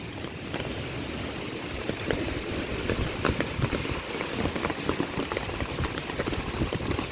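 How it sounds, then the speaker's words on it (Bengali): Heavy rain from Cyclone Remal patters densely and steadily on a farm, a continuous wash of drops with no voices. "জানি না আর কত সময় এই বৃষ্টি হবে"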